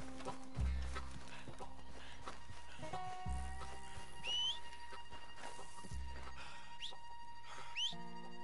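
Horse hooves clip-clopping in the open-world western game Red Dead Redemption 2, a steady trotting rhythm over layered game music and ambience, with a brief whinny-like squeal and no speech.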